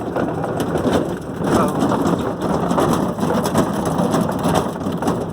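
Heavy rain pours steadily nearby in mid-September by a mustard field, a dense hiss of drops drumming on surfaces with no voices.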